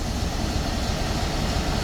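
A ChME3 diesel locomotive hauling suburban train 6424 Stryi–Ivano-Frankivsk departs, rumbling steadily and loudly close by, a dense low drone with broadband noise and no voices.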